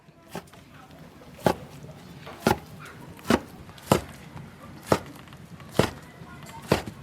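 A knife chops a rolled log of dough filled with stir-fried bitter wild greens into even pieces on a board, about eight crisp, evenly spaced thuds, close and clear.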